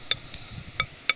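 Vegan bolognese ingredients frying in a pan give a soft sizzle, with a few sharp scraping clicks as they are stirred, close and quiet.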